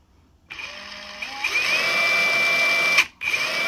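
A Dewalt 20V Max XR DCF961 half-inch high-torque impact wrench spins up in gear 1 to a steady high motor whine, close and fairly loud, then briefly cuts out before restarting.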